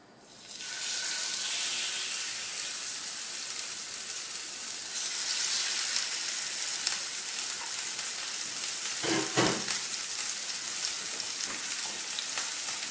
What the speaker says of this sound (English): let me go ahead and throw the steaks in